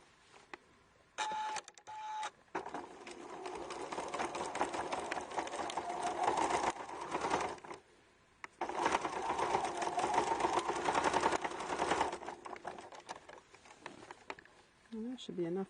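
A sewing machine top stitching a recycled bib made from stretchy fabric runs in two long, steady bursts separated by a brief pause, with a few short clicks and handling noises at the start and a voice briefly heard at the end.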